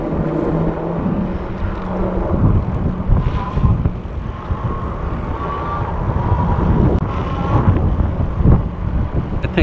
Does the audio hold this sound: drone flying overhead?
yes